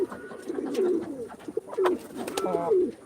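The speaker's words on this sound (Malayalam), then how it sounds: "ഇവിടെയുണ്ട് ബ്ലൂ സാറ്റ്" Blue satin pigeons give soft, rolling coos close at hand, several bubbling calls rising and falling one after another with short gaps between.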